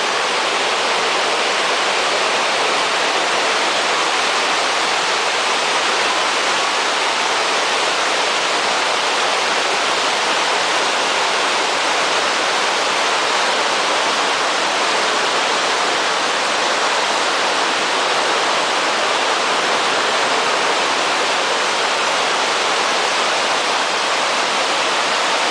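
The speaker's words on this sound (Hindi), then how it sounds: "पर एक खूबसूरत पॉइंट केवाई आबशार भी है।" Kiwai waterfall in Kaghan Valley roars as a steady, dense rush of falling water, loud and close, holding an unbroken wash of sound throughout with no voices.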